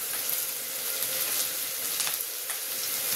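Onions and chillies frying in a pan for mirchi masala kura while being stirred, a steady loud hiss of sizzling oil with scraping stir strokes, no voices.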